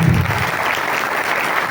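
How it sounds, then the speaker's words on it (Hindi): A church congregation at a Christmas service claps loudly in a short, dense burst, with a brief voice audible at the start under the applause. "आज खुदा के जलाल के लिए जोरदार तालियां बजाएं।"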